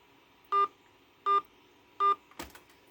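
Three short touch-tone keypad beeps, evenly spaced about three-quarters of a second apart, enter digits on a phone line, followed by a brief click; quiet background otherwise.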